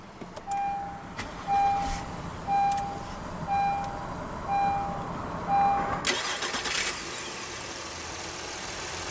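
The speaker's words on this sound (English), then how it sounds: "let's go ahead and start the engine" A series of evenly spaced warning chimes beeps inside a 2023 Honda Ridgeline RTL-E pickup, then the push-button-started engine cranks and catches, settling into a steady idle.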